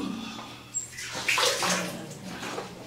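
Water poured over a person during a bath at a shelter, a broad splashing wash that swells and continues steadily, with no voices over it.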